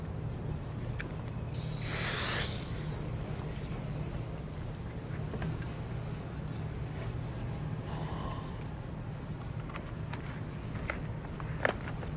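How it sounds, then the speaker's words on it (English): A short hissing spray of glass cleaner, about a second long, onto a Buick Roadmaster door window run channel over a low steady hum, followed by faint handling noises. "spray the run channel with glass cleaner to ease installation back into the door header"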